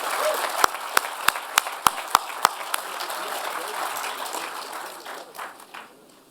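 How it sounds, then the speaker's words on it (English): Audience at a college commencement applauds the graduates, with a run of sharp, evenly spaced loud claps from one person near the front over a wash of crowd clapping that slowly fades. "Let's give a round of applause to all of the graduates of the postdoctoral professional masters."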